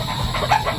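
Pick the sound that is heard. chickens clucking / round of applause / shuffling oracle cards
chickens clucking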